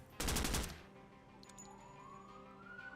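A loud, fast burst of gunshots in a video game rattles out at the start, then fades into an ambient hum with a faint rising siren-like tone.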